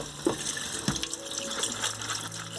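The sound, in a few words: soaked dry beans rinsed under cold running tap water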